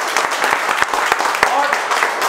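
An audience at a mobile phone repair training session claps loudly, a busy mix of many hands with sharper individual claps standing out, under a lively room murmur.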